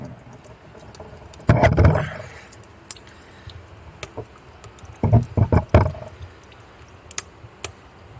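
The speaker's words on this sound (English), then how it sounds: "Kind of hear it bubbling a little bit in there," Irregular bursts of bubbling and gurgling as waste oil boils in a drip burner, with clusters of pops and splutters breaking out over a quiet background, close by.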